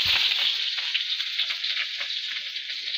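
Onions frying in hot oil at the start of a broiler chicken curry, a steady close sizzle and crackle that holds for the whole stretch without any talk.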